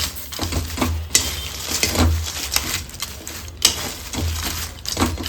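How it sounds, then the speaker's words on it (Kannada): Dry fish, about 200 grams, roasting in a pan for a dry fish curry, with repeated scraping and clattering of a utensil against the pan in an irregular rhythm, close and fairly loud, with no talk. "ನಾನಿಲ್ಲಿ 200 ಗ್ರಾಮ್ ಮೀನನ್ನು ತೊಗೊಂಡಿದ್ದೀನಿ. ನೀಟಾಗಿ ಕಡಕ್ಟಾಗಿ ಹುರ್ಕೋಬೇಕು ಮಾತ್ರ."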